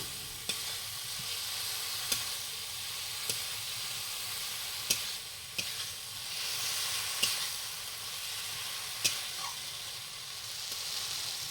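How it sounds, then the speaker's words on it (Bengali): Fried potatoes being stirred into spice masala in a pan over a clay stove, giving a steady close sizzle with a sharp scrape or tap of the spoon every second or so. "মশলাগুলি ঠিকমতো কষানো হলে যে ভাজা আলুগুলি ছিল সেগুলি আমরা ওই মশলাতে দিয়ে আবার কষাবো।"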